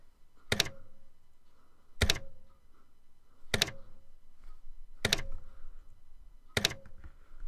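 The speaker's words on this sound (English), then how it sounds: "Now we have a typewriter sound effect." Typewriter sound effect from a LÖVE (Love2d) 0.9.0 game: five sharp, evenly spaced key strikes about 1.5 seconds apart, each a crisp clack with a brief ringing tail over a faint background hum.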